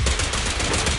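Rapid gunfire bursts from a character's weapon in the video game Zenless Zone Zero, loud and close, with a quick rattling rhythm across one second.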